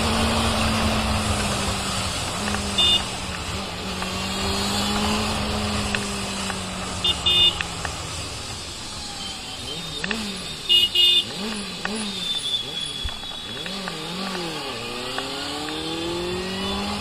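Benelli 600i motorcycle engine revving while riding, a steady engine drone that climbs and falls in repeated revs, growing more varied and throttled in the second half, loud and close with wind and road noise.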